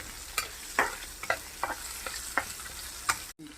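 Asafoetida frying in a pan for a chutney: a soft continuous sizzle under a series of sharp scrapes and taps as a spoon stirs, roughly one every half second, with a brief cut near the end.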